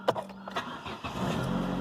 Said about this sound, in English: Check that the car starts.